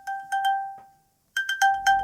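An iPad Pro 12.9-inch, fifth generation, chiming repeatedly as it is pinged to be located: a bright two-tone ring repeated in a short burst, a pause, then a faster volley of the same tones, clear and near.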